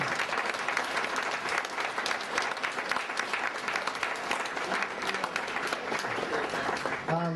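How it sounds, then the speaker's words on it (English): Audience applause at a company award ceremony, a steady dense clapping from a crowd that carries on throughout before thinning near the end, with a faint voice briefly under it. "one more round of applause"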